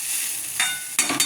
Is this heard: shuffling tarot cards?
no